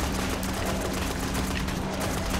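Rockets and gunfire in a first-person shooter while fighting ogres, a rapid, continuous volley of loud shots with a low rumble underneath and no pauses.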